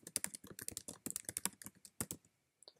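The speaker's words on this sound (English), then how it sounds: "you need to erase all this part, type in your URL" Rapid keystrokes on a computer keyboard as a web address is typed in, a quick irregular burst of close, crisp clicks that stops abruptly, with one last isolated tap after a short pause.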